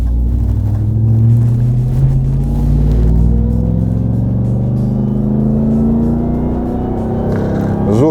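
A 2021 RAM TRX Launch Edition pickup's engine pulls hard on a highway, a loud, steady low rumble rising continuously in pitch over about eight seconds with no talking.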